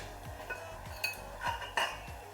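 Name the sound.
lid being placed on a cooking pot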